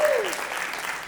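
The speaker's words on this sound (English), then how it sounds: "There's a clap." An audience claps at a hip hop panel discussion, a steady dense wash of applause held at even loudness for the whole moment, with a brief high whistle-like tone sliding down at the start.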